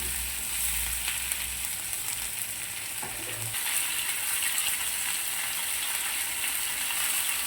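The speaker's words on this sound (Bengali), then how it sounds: "খুব বেশি আমি ভাজবো না এটাকে, হালকা ভাজবো, বেশি ভাজলে ক্রাঞ্চি ভাবটা চলে যাবে।" Onion and capsicum fry lightly in a pan, a steady close sizzle running evenly throughout with a faint clink partway through and no voices.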